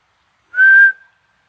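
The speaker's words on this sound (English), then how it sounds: "I just heard a whistle." A single clear whistle, steady and sustained, lasting about half a second before trailing off, heard alone against silence.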